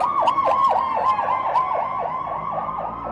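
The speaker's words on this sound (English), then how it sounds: "Here's the one of me walking outside with the noisy traffic." Outdoor street traffic with an emergency siren wailing in a steady, rapidly repeating up-and-down cycle, loud and continuous over a constant rumble of passing cars while someone walks outside.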